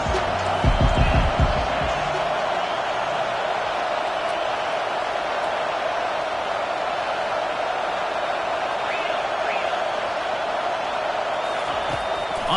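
A college football stadium crowd keeps up a dense, steady roar throughout, with a brief burst of thumping or clapping near the start and a broadcast commentator talking over it.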